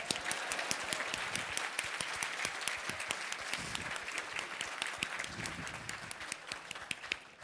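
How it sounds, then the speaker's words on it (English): Dense, sustained audience applause at a Hong Kong Pride event, many hands clapping at once in a steady wash of sound, continuous and even without pauses or voices standing out. "I need applause now."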